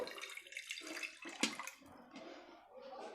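Water splashes and runs steadily into a pan, a continuous pouring and sloshing sound close up, with a brief clatter midway, while making sweet pongal.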